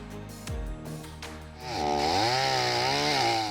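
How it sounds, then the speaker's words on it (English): A chainsaw is pulled to life, with a few sputtering cranks before the engine catches and settles into a loud, steady revving whine that holds close and alone. "when you hear people starting chainsaws and getting this kind of equipment ready"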